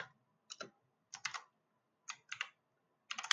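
Computer keyboard typing code in a JavaScript coding lesson: short bursts of a few quick keystrokes, clicky and close, separated by pauses, with no talking.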